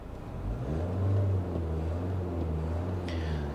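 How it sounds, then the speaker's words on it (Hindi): Diesel engine of a 2022 Mahindra Scorpio-N Z8L automatic idling at a standstill, heard from inside the cabin: a steady low rumble with faint clatter, continuous and moderately loud, no talking. "डीजल मोटर है under the hood. Just listen to the engine."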